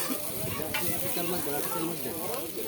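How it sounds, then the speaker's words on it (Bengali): Hilsa fish frying in its own oil at a lunch spread in Kuakata. A dense, continuous sizzle crackles steadily up close, with faint voices in the background. "ইলিশ মাছের তেলেই ভাজতেছেন না হ্যাঁ, হ্যাঁ এটা স্বাদ হবে বেশি"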